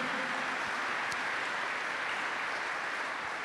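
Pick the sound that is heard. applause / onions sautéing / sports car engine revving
applause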